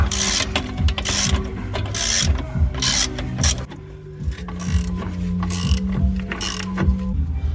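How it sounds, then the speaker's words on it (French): A ratchet clicks in quick repeated bursts while tightening the bolts and nuts on the driveshaft of a GT86 differential being fitted to a Lexus IS200. The clicking is close and mixes with clanks of metal from the workshop. "il faut que maintenant on resserre là. Les vis et les écrous de l'arbre"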